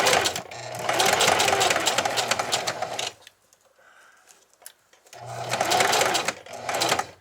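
Close sewing machine with a zipper foot stitching lace onto a pinned dress over boning, running in two fast, loud bursts of rattling needle strokes separated by a quiet pause of about two seconds.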